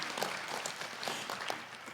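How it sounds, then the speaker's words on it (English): Conference audience at the 2024 ACB Conference & Convention general session applauds, a soft, even wash of many hands clapping at some distance with no talk over it. "we should clap for that"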